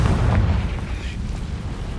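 A Confringo spell explosion in the video game Hogwarts Legacy: a broad, loud boom that starts the clip and trails off into a sustained rumbling roar.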